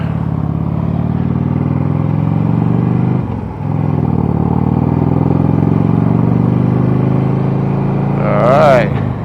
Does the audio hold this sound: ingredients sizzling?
no